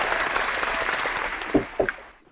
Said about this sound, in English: where's that stupid applause?